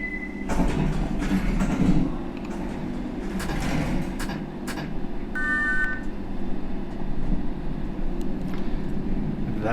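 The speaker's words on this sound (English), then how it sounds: "This train is ready to depart" London Underground Circle line train departing in World of Subways, with doors closing, a low rumbling hum of the train, brief chime tones and clunks, steady and fairly close throughout.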